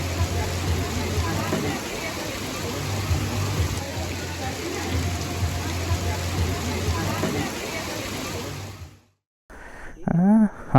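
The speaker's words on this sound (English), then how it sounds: "Back in the evening at beach, couldn't do much because of the persistent rain." Persistent evening rain falls at a beach, a dense, steady hiss of drops that runs for most of the clip before cutting off near the end.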